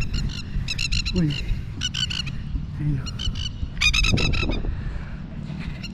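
Birds honk repeatedly in quick bursts of rapid, goose-like calls, fairly close, while a person says a word briefly underneath.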